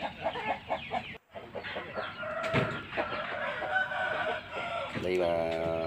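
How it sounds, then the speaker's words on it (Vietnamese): Chickens and chicks in farm coops, a busy mix of clucking and cheeping with a rooster's crow rising near the end, close and continuous. "Đây là mấy chuồng gà con."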